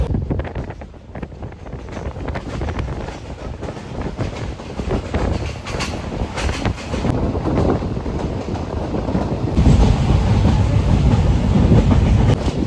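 An ALCO diesel-hauled train on the Shoranur–Nilambur line rounds a steep curve in heavy rain, rumbling wheels and rattling carriages mixed with gusty wind buffeting the microphone, growing louder toward the end.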